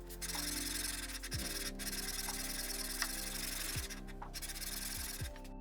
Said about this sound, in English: I reapply the compound, and I do this about 5 to 6 times when the big machining marks have been sanded away